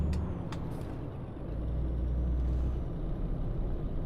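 A heavy truck's air brakes hissing while driving in Euro Truck Simulator, with short sharp hisses early over a steady low engine rumble that swells briefly in the middle.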